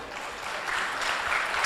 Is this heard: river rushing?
no